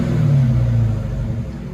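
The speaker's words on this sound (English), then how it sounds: "We're not going to rev it too high because it's only got 300 miles." 2021 Dodge Charger SRT Hellcat with a dual exhaust fitted with Dynomax Race Bullets, a short deep rumbling rev that rises and settles, close by, with no talk.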